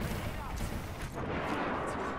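Thermite grenades crackle and burn in the battle royale game Apex Legends, a dense continuous roar with sharp pops and a brief flare near the middle, over game noise and talk.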